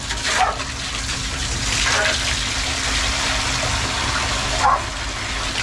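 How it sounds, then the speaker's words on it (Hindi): Water sprays from a hose and splashes steadily in a continuous rushing hiss, with a few brief louder bursts, fairly close and loud. "जैसे पानी मार रहा हूँ ना सारा वो नीचे जा रहा है"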